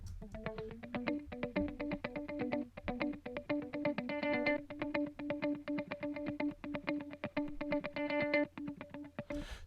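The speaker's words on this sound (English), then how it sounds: "Okay, so that's the guitar, and let's hear it with the other guitars." Layered electric guitar stems from a pop track, playing a steady, tightly rhythmic chopped pattern with effects and light reverb, loud and continuous on their own for nearly ten seconds before stopping abruptly.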